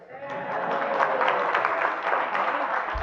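Steady applause from a live keynote audience, a dense wash of clapping that holds evenly for a few seconds.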